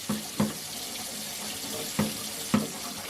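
Hot water runs steadily from a tap into a sink, a continuous close splashing flow with a few soft knocks and bumps as a tumbler is handled under it.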